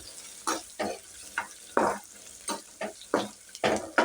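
Ivy gourd pieces fry in a pan, giving a quiet sizzle broken by repeated bursts of louder crackling and stirring about every half second.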